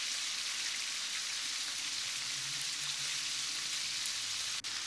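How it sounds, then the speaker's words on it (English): Beef strips frying in hot oil over high heat, a steady dense crackling sizzle like rain on a surface, close and even throughout, with a faint low hum beneath and no talking. "Let's fry the beef strips in the hot oil on high heat."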